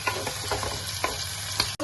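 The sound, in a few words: chitol fish chutney frying in a pan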